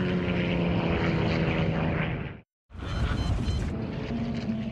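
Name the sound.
Beechcraft airplane engine as the plane dives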